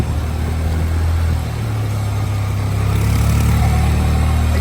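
Motorbike engine running steadily through deep floodwater on a flooded street in Karainagar, Jaffna, with a constant low rumble close by and a slight rise in intensity toward the end.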